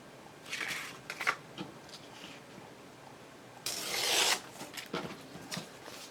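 Paper being torn by hand for ephemera crafting: a few short ripping strokes early, then one longer rasping tear in the middle, with small rustles after it, close and fairly quiet.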